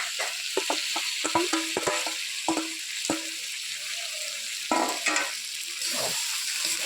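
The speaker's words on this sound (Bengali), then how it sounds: "মাখিয়ে রাখা শঙ্কর মাছটা আমি এর মধ্যে দিয়ে দেবো" Spiced stingray fish sautéing in ground masala hisses and sizzles up close, broken by a quick run of spoon scrapes and clacks against the pan early on, then a rougher sizzle burst near the end.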